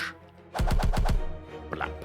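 Barrage card attack in the Slay the Spire video game: a rapid burst of five loud, gunshot-like hits in quick succession, followed by a fading tail and a brief chime.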